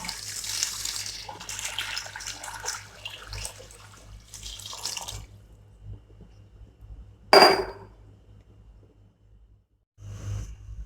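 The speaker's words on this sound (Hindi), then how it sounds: "1 लीटर यखनी वाला पानी ऐड करेंगे।" Stock water pours and splashes steadily into a pot of Kabuli pulao for several seconds, followed by a single sharp clatter and a short splash near the end.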